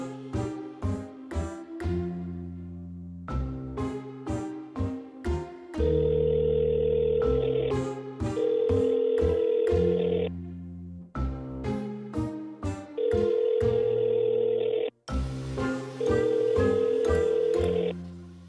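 Phone call ringing tone left unanswered, a repeating electronic melodic ringback with sustained tones and short note patterns cycling several times, clear and close with no talk.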